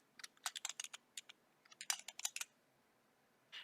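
Quick bursts of typing on a computer keyboard, crisp close clicks in two short runs separated by a brief pause, then one softer final tap, quiet and with no voice.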